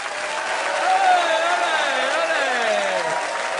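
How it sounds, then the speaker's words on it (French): A television studio audience applauds the show's columnists, a steady broad wash of clapping mixed with cheering voices and music, loud and close throughout. "Mesdames et messieurs, je vous demande d'applaudir nos chroniqueurs."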